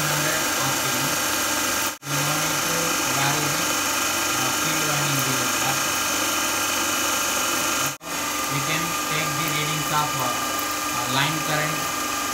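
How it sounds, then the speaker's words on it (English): A DC shunt motor runs steadily at no load at 1500 RPM, a constant mechanical hum with a whine, broken by two brief dropouts, while a person talks over it. "Now the motor is operating at no load"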